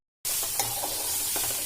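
Tamarind and curry leaves fry in a pan, and a sudden hissing sizzle starts after a brief silence and continues evenly, with a few light crackles and clinks.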